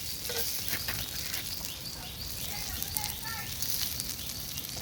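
Chicken frying on a hot clay roof tile with onion dropped on top, giving a steady dense sizzle and crackle that runs throughout, close and fairly loud, with voices talking over it.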